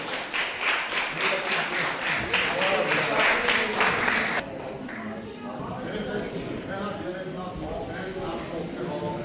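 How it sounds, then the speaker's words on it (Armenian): An audience at an award ceremony for boxing coaches claps in a steady rhythmic beat for about four seconds, then it stops abruptly, leaving a low hall murmur. "ծափահարենք։"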